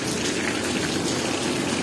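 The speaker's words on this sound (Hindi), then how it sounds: "और बारिश का सिलसिला जारी है" Steady rain in the Naran Kaghan mountains after fresh snowfall, a dense, even hiss of drops that holds at the same level throughout, with no voices.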